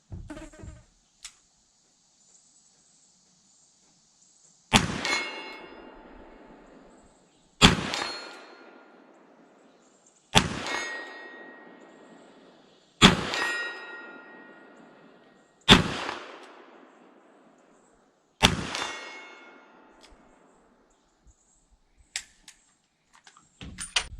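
Six sharp shots from a Smith & Wesson 19-4 .357 Magnum revolver fired single action, each followed by a ringing metallic clang off a steel plate at 40 yards, spaced a few seconds apart outdoors with brief pauses between.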